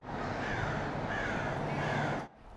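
A crow gives a long, harsh, rasping caw that holds steadily for about two seconds before breaking off, clear and alone with no voices.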